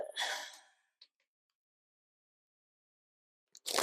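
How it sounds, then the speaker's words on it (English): A person yawns with a long breathy exhale, then falls silent, followed by a short click and another breathy burst at the end, close and fairly loud. "I'm yawning."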